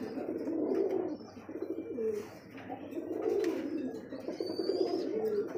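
Pigeons cooing in a pair, repeated low throaty coos in steady phrases, close and clear, with faint bird chirps in the background and no talk.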